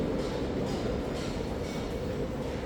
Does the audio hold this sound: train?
yes